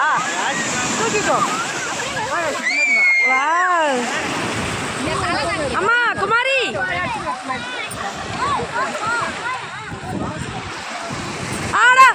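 Sea waves wash and splash around people bathing at Auro Beach in Pondicherry, a steady rushing surf heard up close, with voices shouting and chattering over the water throughout.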